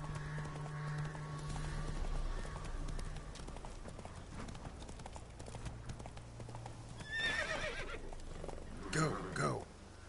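Roach the horse in The Witcher 3 gallops with rhythmic hoof clip-clops, then whinnies loudly near the end, with a second neigh following, over a low ambient background.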